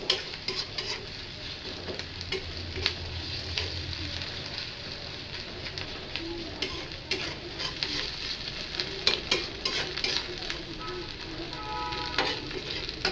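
Ginger garlic paste stirred in a frying pan, a steady hiss of frying with repeated scraping strokes and occasional clinks of the spoon against the metal, close and continuous throughout.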